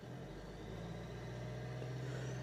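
A 2007 Renault Mégane 2 1.5 dCi diesel engine with an unstable idle, revved up steadily, giving a faint, continuous low hum whose pitch rises slightly.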